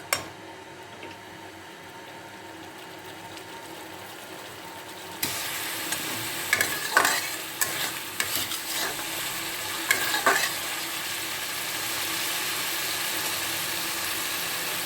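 Goat meat is sautéed and stirred in a pan for a Bengali-style kid-goat curry, with a little water added partway through. A soft sizzle jumps to a louder, steady frying hiss, and scraping stirs cut in close by at intervals.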